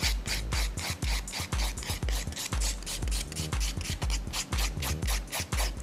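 A hand file shapes an acrylic nail extension into a coffin shape with quick, rhythmic rasping strokes, close and steady, about three or four strokes per second throughout.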